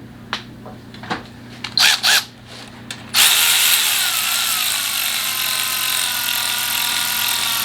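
Power tool running down cylinder head bolts on a Mercedes M273 engine from an ML550, a few short ratcheting bursts and quick whirs, then a loud sustained whine as a bolt spins down.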